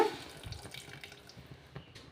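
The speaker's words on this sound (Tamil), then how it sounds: "அரை கப் தண்ணி ஆட் பண்ணிக்கோங்க" Half a cup of water is poured into a pan on the stove, giving a short, soft trickling and splashing sound that is close and fairly quiet.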